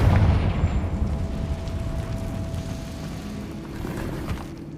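Fiery blast of the Confringo spell in Hogwarts Legacy, a dense rumbling burst that starts loud and decays over several seconds, with no talk.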